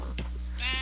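A single short sheep bleat from the Minecraft video game, brief and quiet over a low steady game hum.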